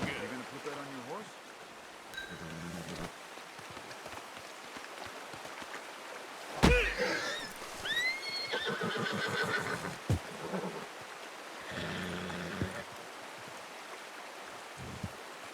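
Horse neighing and whinnying in Red Dead Redemption 2 during a hunting trip, one loud whinny mid-clip with fainter snorts, over a flowing stream and sparse game sounds, with brief talk around it.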